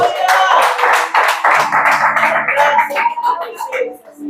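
Congregation clapping during a church service, rhythmic hand claps mixed with music and voices, loud and close throughout.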